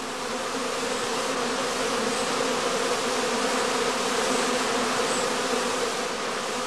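Honey bees foraging at the entrance of a straw skep hive make a dense, steady buzzing hum, close and unbroken throughout with no voices.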